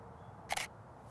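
A single-lens reflex camera shutter fires once during an outdoor portrait shoot, a short sharp mechanical click-clack standing alone over faint background ambience.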